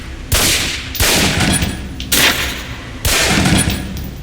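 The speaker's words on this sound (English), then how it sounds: "Equip the pistol, then aim down range and take some shots at the target." Four loud, evenly spaced pistol shots fired at a target in the game Alpha Protocol, each a sharp close crack with a ringing tail, heard alone.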